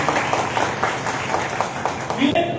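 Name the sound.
audience clapping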